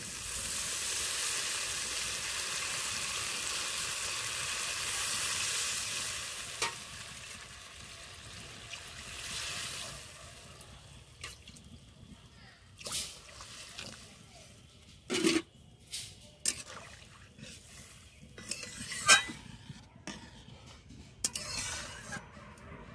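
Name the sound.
water poured into sizzling pan of potato pea curry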